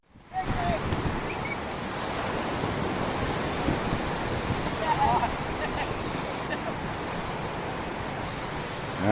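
Early-morning sea waves wash onto the beach at Quy Nhon in a steady, broad rushing roar with some wind noise, and faint voices sit underneath.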